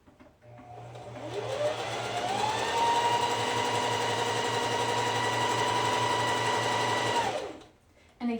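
A sewing machine ramps up and stitches straps in one steady run, its motor whine rising then holding level for several seconds before cutting off. The sound is close and loud with no talk over it.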